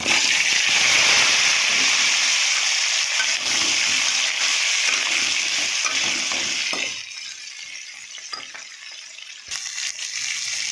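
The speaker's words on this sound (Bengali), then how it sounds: "আমি তেলের মধ্যে বেগুন আলুটা দিয়ে দেবো" Eggplant and potato dropped into hot oil in a home kitchen, a loud, steady hissing sizzle that eases slightly partway through, with occasional clatter of utensils.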